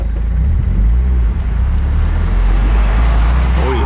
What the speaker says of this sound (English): First drive on the streets.